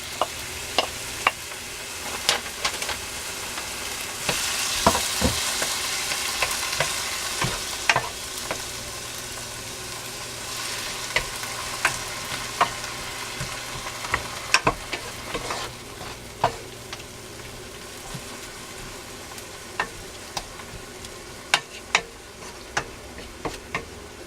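Tomatoes sautéing in a pan for tochong bangus with black beans and tofu, a steady sizzle broken by frequent sharp spatula scrapes and taps, close and sustained.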